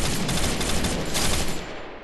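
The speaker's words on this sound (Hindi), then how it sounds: "खैर सामने और फायरिंग की आवाज़ें आ रही हैं" Dense, continuous automatic gunfire from the Garena Free Fire Max video game, a loud sustained burst of rapid shots that tapers off at the end.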